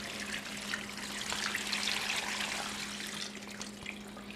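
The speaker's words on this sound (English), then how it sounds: "add our rinse water," Rinse water pouring into a Scrubba laundry wash bag, a steady broadband splashing and trickling stream that runs continuously and evenly, fairly close, with no talking over it.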